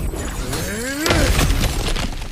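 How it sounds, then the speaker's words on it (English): In God of War Ragnarok, an object is smashed and shatters: rising swooping tones lead into a sudden loud breaking crash that scatters into a short rattling debris tail. "back to smashing through things for fun and profit"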